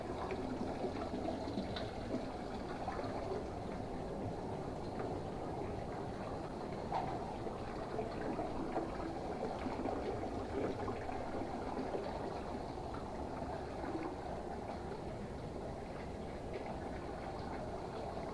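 Rolls-Royce aluminium door handles being rinsed in a dilute acid swirl tank, with a steady churning wash of water at moderate level and no pauses.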